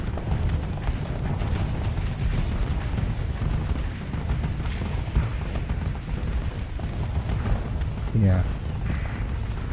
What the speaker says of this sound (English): Got a lot of missiles flying out right now